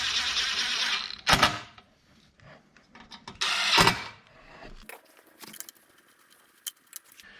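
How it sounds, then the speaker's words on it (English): Metallic clinks and rattling as screws are fitted to a snowblower carburetor during a carburetor replacement, several short bursts and jangles separated by pauses, close and fairly loud. "I'm gonna first put through the screws that attach to the carburetor"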